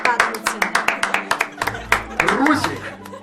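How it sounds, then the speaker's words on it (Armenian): An audience claps together in a quick, steady rhythm of sharp, close claps for about a second and a half. The clapping then breaks into looser claps mixed with chuckling and voices. "Իսկ այժմ բոլորս միասին ծափահարում ենք"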